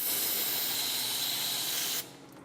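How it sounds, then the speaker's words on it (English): Brake cleaner sprays in a steady, loud aerosol hiss into the housing of a Ford 9-inch axle on a truck project, running continuously for about two seconds before cutting off abruptly. "I kind of want to spray some brake cleaner in there so we can clean it out."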